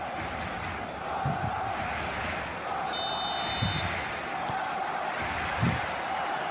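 Stadium crowd in the eFootball 26 football game, a dense, steady roar of many distant voices with faint swelling chants, continuous throughout.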